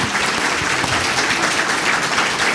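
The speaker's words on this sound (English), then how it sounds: "please give our speakers another round of applause" Steady applause from a crowd, dense clapping holding at an even level throughout with no pauses.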